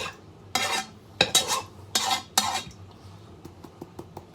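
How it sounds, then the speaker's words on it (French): A spoon stirs leftover sauce and added water in a pan for Balkan-style stuffed peppers, making four or five distinct scraping strokes followed by several light taps against the pan, close and clear with no talking. "S'il vous reste de la sauce, on va ajouter de l'eau. Vous mélangez."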